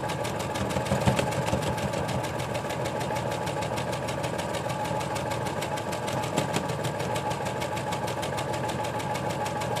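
A sewing machine with a 1/4-inch presser foot stitches a multipurpose organizer. The needle knocks fast and evenly in a steady mechanical rhythm, close and constant, with no talking.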